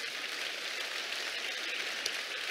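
Applause from a gathered congregation at a testimony gathering, a soft, steady patter of many hands clapping at a distance, fairly faint and even throughout.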